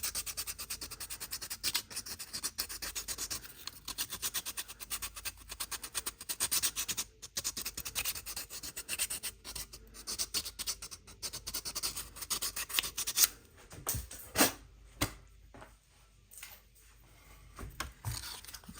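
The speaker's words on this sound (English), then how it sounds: "Now the last thing I'm gonna do is make sure this top edge is beveled on this inside here." Steady rubbing and scratching of abrasive against the beveled inside top edge of a plastic model kit torso part, continuous strokes at close range, growing more broken and intermittent toward the end, with no talking.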